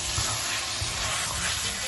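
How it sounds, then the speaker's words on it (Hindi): Lamb karahi gosht with green chilies fries in a pan, giving a loud, steady, dense sizzle that continues without break and with no voices. "अब इसको दो मिनट और भून के फिर मैं इसमें पानी डालूंगी"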